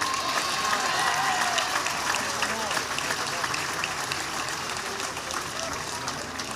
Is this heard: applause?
yes